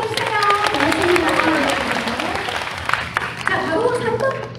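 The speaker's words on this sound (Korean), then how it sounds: "여러분들 우리 이 친구들 위해서 한 번만 더 박수 한번 보내주세요" An audience at a school quiz event in Gyeongju applauds in a steady wash of clapping, with voices talking over it.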